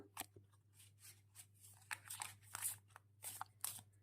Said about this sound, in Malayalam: കാർഡ് ഷഫ്ലിയാണ്